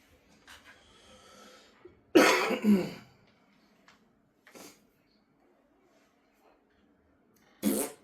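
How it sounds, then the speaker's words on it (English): A person passes gas in a quiet room: one loud, rough burst near the middle, followed by a few softer short noises and brief stretches of near silence. "Had to fart."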